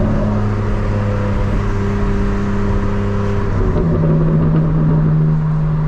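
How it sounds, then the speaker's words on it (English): A fully modified 2025 BMW M4 Competition engine drones loudly from inside the car, its pitch climbing steadily and then dropping as it shifts up a gear, with road and wind noise constant underneath. "you can tell when I'm actually upshifting"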